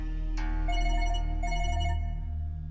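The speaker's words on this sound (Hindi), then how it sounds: "अरे इस वक्त किसका फोन आ गया?" A phone ringtone plays in a scene from a Pakistani drama, a melodic electronic tune repeating in short phrases, loud and close, with no one talking over it.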